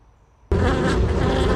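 Dense, steady buzzing of many bees swarming around a beehive, starting abruptly after a near-silent half second and continuing loud and close without pause.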